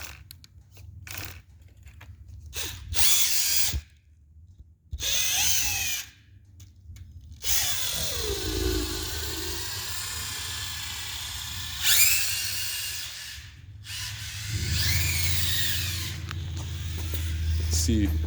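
An RC car fitted with rear-steering servos and two brushless motors whirs in short bursts, with high whining spurts broken by pauses, fairly faint and close, while a person talks between the runs.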